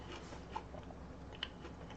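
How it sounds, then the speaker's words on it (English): Soft, close chewing of healthy snacks, with faint irregular crunches and a couple of sharper bites standing out over a steady low background hum. "I apologize for the chewing."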